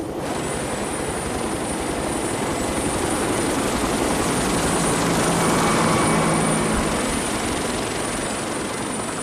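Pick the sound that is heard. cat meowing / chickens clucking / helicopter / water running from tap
helicopter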